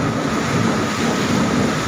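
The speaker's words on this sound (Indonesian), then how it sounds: "beserta angin kencang." Strong wind gusts roar steadily through heavy rain in Cilacap, a dense, loud, unbroken wash of noise with no voices.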